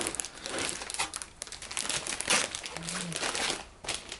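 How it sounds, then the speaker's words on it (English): A Longchamp Le Pliage Camo large belt bag is unpacked from its box, with steady close crinkling and rustling of packaging paper and plastic. "now let's open the box and see the bag inside"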